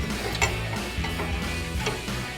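U-bolts being removed from the rear axle of a Silverado 1500 pickup, a close mechanical ratcheting and clicking in a quick, uneven rhythm with metallic taps.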